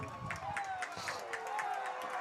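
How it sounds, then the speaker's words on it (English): A crowd at a girls' high school state soccer semifinal cheers and claps for their team, with rhythmic clapping bursts and crowd noise at moderate distance under an announcer's commentary. "this crowd is hyping up their team right now"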